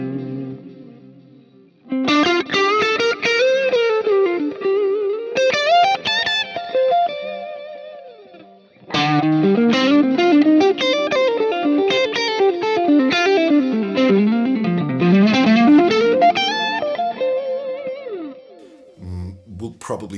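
Electric guitar played through a Laney Black Country Customs Difference Engine delay pedal, reverb off and mix turned down, with distorted, sustained melodic phrases and subtle repeats, loud and close, with a pause between two passages.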